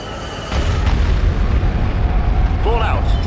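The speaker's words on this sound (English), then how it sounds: "Bombardment incoming." Bombardment explosions in the video game Star Wars Empire at War roll in as a sustained, deep, rumbling barrage of booms, with a short game voice line partway through.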